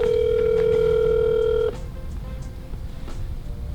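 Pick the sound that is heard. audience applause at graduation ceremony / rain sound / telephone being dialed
telephone being dialed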